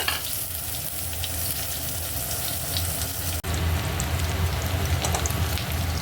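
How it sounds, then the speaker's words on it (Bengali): Chopped onions sizzle and crackle steadily in hot oil seasoned with whole cumin and bay leaf, a loud, dense frying hiss that jumps briefly louder midway, with no talking. "এবার এই কাটা পেঁয়াজগুলো আমি দিয়ে দেবো এনে একটু ভেজে নেব"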